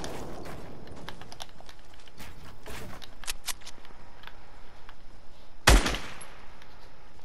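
Rockets fire in a multiplayer shooter video game as a scattered series of sharp, crackling bursts, capped by one loud, close blast near the end.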